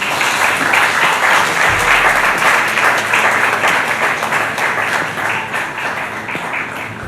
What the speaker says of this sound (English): I think we need to, give a round of applause to our panelists